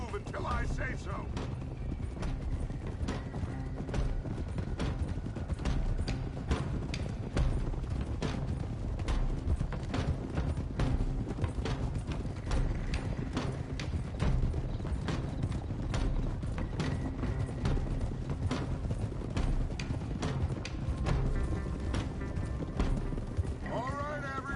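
Horses trot through a Red Dead Redemption 2 game scene in a steady clip-clop of hooves with creaking tack, running continuously under a low rumbling score and intermittent character voices.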